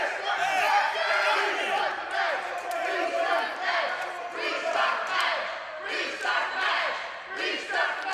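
Wrestling crowd at an indoor independent show, right after a match is ruled a no contest, yelling and chanting in loud, surging rhythmic waves of many voices close by.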